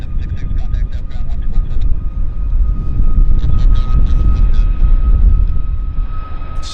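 A Lufthansa Boeing 747-400 jet at Vancouver Airport gives off a heavy, close low rumble with a faint steady whine, while brief bursts of talk come and go over the top.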